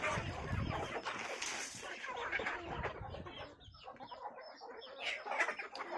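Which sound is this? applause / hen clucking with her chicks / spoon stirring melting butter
hen clucking with her chicks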